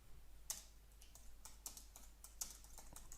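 Quiet keystrokes on a computer keyboard while editing a sales page, a sparse run of soft clicks with a few sharper taps, faint and close with no voices.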